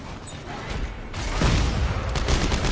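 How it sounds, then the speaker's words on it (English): A shotgun blast in Dead Space 3 lands as a heavy, booming rush of noise midway, swelling out of a quieter mechanical rumble and ringing on loudly. "did you see that shotgun? That guy just got blown away"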